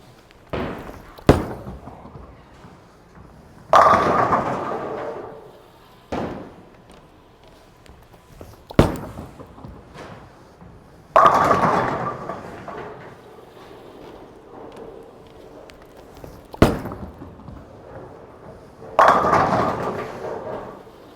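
Bowling ball rolling down a lane during practice for the 2022 USBC Open Championships, with several sharp thuds as it lands and a rumbling roll that builds into clattering pin strikes, heard from a moderate distance and repeated across a few shots.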